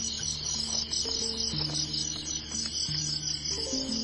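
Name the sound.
field crickets in Siem Reap, Cambodia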